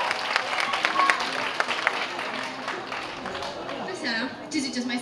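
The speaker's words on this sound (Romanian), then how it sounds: "Aplauze pentru ei!" Applause from a high school ball audience welcoming award presenters onstage, moderate clapping that thins out as a voice begins talking over the tail end.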